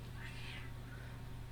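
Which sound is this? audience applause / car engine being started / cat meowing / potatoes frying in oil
cat meowing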